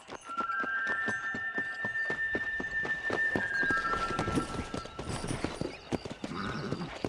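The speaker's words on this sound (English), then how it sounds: "I'll show you how we ride round these parts." Horse hooves clip-clopping at a steady gallop in the Red Dead Redemption video game, loud and continuous, with a whinny and occasional faint voices in the background.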